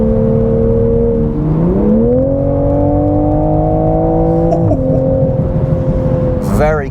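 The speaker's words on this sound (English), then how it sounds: "When you get on a straight bit of road like this, and then you boot it, pushes you into the seat, this thing goes." A 2022 Toyota Supra 3.0 accelerates hard from the cabin. The engine tone climbs steadily, drops at a gear change, then climbs again under a constant drone, with talk over it.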